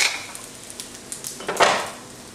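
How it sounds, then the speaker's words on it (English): Shiitake mushrooms and sliced sausages sizzle softly in a pan, with a faint steady frying hiss broken by a few clinks of a utensil against the pan, loudest near the end. "the shiitake mushrooms are cooking through now"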